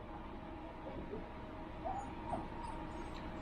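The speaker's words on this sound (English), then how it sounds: "Oh, the puppies are going crazy over here" Puppies whimper and let out excited little yips, fairly faint and close by, over a low steady background hum in a kitchen where steak and peppers are being cooked.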